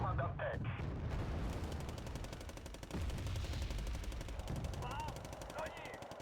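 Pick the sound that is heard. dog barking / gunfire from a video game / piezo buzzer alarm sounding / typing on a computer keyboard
gunfire from a video game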